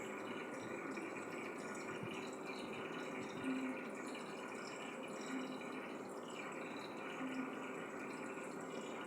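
Water poured into a bowl while cooking yam masiyal in a kitchen, a steady close splashing pour that runs through the whole stretch with no voices.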